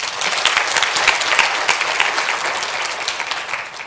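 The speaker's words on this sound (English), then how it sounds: "another round of applause" A large conference audience claps continuously, a dense and even wash of applause that holds steady throughout at a strong level.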